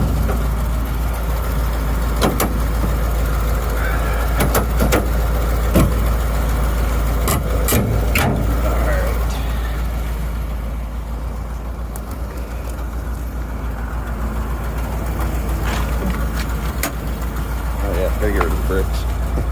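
1972 Ford COE C600 truck with a 361 engine, a low rumbling idle and drive heard up close, with clunks and knocks over it and people talking.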